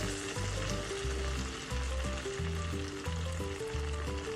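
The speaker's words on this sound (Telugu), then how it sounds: "ఇలా చేసుకొని ఆయిల్లో వేసుకోవాలి" Sweet corn vadas, balls of corn batter dropped into hot oil over a medium flame, frying with a steady dense sizzle and bubbling, close and continuous with no talking.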